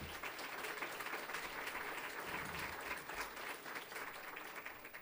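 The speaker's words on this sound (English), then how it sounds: "Let's give a round of applause to all the students" Diners at a university honors dinner give students a steady, full round of applause, dense clapping from a large crowd sustained at an even level for about five seconds with no talk over it.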